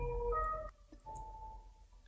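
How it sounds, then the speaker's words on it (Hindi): An ambulance siren outside in Italy, heard indoors as a faint, wavering tonal wail that shifts pitch and drifts across a couple of seconds behind a quiet room. "अगर आपको एम्बुलेंस की आवाज नजर आ रही हो"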